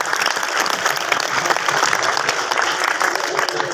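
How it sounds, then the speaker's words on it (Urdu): Students at an anti-drug awareness seminar at Al Quddus Boys High School give steady, enthusiastic applause, a dense continuous clatter of many hands that carries through the whole moment. "آپ کے لیے زوردار تالیاں"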